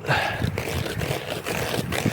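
Laptop keyboard being washed on a tabletop, with wet sloshing, gurgling and scrubbing in uneven bursts close to the microphone, fairly loud and continuous.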